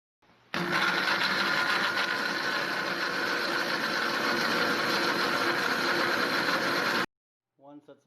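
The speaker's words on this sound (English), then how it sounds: "and then we blend" A blender whirs through lemon juice, salt and pepper for hummus, starting abruptly and holding a loud, steady mechanical whine for about six seconds before cutting off, followed by a brief voice.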